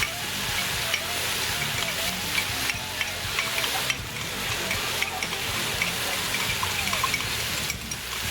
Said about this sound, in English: we're going to put our cornstarch slurry on there to thicken up that sauce